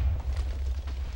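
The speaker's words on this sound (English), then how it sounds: "you just have a firework coming out of the top of your house" A firework launching from a hidden firework cannon in the Minecraft video game gives a deep, muffled boom with rumbling bursts, short and fairly loud, with no talk.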